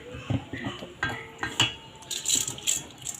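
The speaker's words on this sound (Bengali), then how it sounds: "কড়াইতে আমি এখন দিয়ে দিচ্ছি খুদ" Broken rice (khud) tipped into a kadai pan gives a few quick rattling, clinking bursts of grains striking metal, close and fairly loud, spread over about three seconds with no voices.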